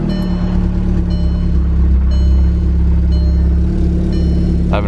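A Volkswagen Golf R MK6 with an exhaust leak rumbles loudly while driving, a deep, steady engine drone with low throbbing pulses and slight rises in revs, close and continuous with no talking.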